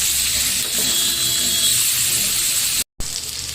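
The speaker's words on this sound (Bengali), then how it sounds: "উল্টিয়ে দিচ্ছি।" Pangas fish being turned over in a frying pan, a steady close sizzle of hot oil with soft scraping under it and a brief cut near the end.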